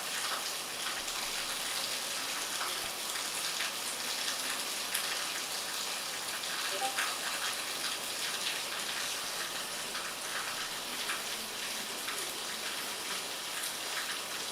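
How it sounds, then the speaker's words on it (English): Heavy rain falls hard outside, a dense, constant hiss of drops pattering on surfaces that holds steady throughout with no other sounds. "It's raining really hard right now."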